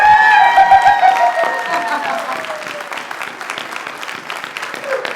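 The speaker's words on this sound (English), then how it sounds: "can I ask you to clap once more for like 5 seconds?" An audience at a talk about Indigenous storytelling claps steadily, loud at first and slowly fading over several seconds, with a voice briefly heard at the start.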